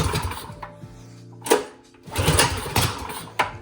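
Manco Dingo yard kart small engine cold-starting on choke, sputtering and puttering unevenly with a couple of sharp backfire pops, close by with no talking.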